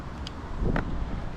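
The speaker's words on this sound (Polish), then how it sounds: "nienawidzę przy silnym wietrze wzdłuż rzeki łowić" Strong wind gusting along a riverbank during spin fishing, a steady broadband rush with a brief stronger gust midway, close to the microphone with no voices.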